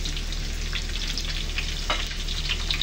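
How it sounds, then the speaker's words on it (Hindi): Brinjal (eggplant) frying in a pan, a continuous crackling sizzle with occasional stirring scrapes and pops, close and steady with no talk. "बैंगन बन रहे हैं बड़े ज़बरदस्त"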